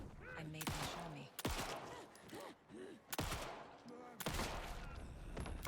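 Four pistol shots ring out in the survival horror game Alan Wake II, sharp broadband cracks spaced about a second apart, loud and close over a dark ambient game soundscape with tonal effects between them.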